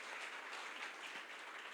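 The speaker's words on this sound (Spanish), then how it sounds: "Denles un aplauso, por favor." A church congregation claps together, a steady wash of many hands applauding in a room, moderately quiet and even, continuing for the whole stretch without speech.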